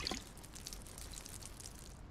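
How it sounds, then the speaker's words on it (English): Liquid such as paint emptied from a bucket onto the ground in the Project Zomboid video game, a soft splashing pour with dribbling and wet spatter, faint and brief. "And now the game plays the pour liquid on the ground sound effect when you empty paint buckets and such."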